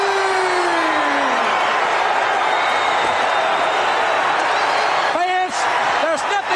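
Wrestling arena crowd roaring for Sting as the new world heavyweight champion, a dense sustained wall of cheering and whoops that stays loud throughout, with an announcer's voice over it.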